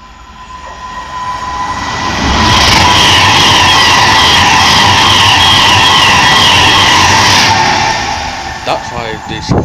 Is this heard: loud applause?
no